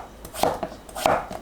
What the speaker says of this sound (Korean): 감자는 큼직하게 대충 썰어주세요.